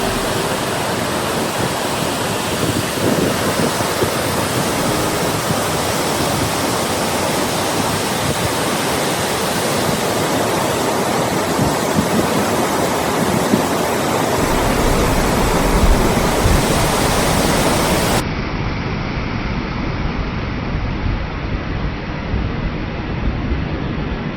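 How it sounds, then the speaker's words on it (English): Pajou Falls gushing out in the bush, a steady, dense roar of falling water that stays loud and close throughout, with no voices over it. "We are here at Pajou Falls. It's a gushing."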